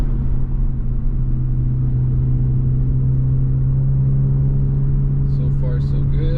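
A 500hp Audi A3 engine idling after an MPI repair, a steady deep rumble with a constant low hum, loud and close, running evenly without revving.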